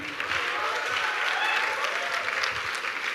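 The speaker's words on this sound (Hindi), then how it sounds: "एक बार दोनों के लिए दो जोरदार तालियां." Sustained applause from an audience at an IIT Delhi talk session, dense and steady clapping throughout at a fairly loud level.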